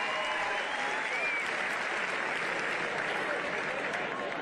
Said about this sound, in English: The crowd letting off a big cheer.